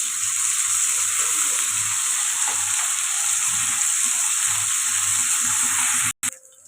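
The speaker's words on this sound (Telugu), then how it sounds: "అల్లం వెల్లుల్లి పేస్ట్ కూడా ఫ్రై అయిపోయింది కదండి" Ginger garlic paste frying in a pan gives a loud, steady, close sizzle with soft stirring taps underneath, ending in a brief cutoff and a clatter, with no voices.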